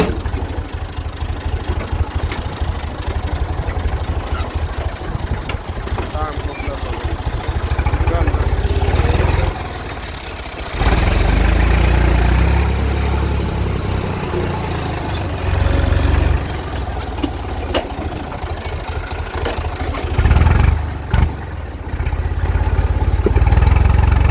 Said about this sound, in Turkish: Ve su motoru var.